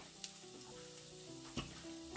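Chopped onions fry in a pan, already golden but not yet browned. They give a faint, steady sizzle, broken by a couple of soft clinks and a sharper knock at the end, with no talking.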